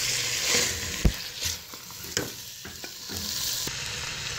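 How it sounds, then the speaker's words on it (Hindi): Boiled peas get stirred into chicken macaroni in a pan: a soft continuous sizzle with irregular scraping and knocking of a spoon against the pan, close up. "और इसे अच्छे से मिक्स कर लूँगी।"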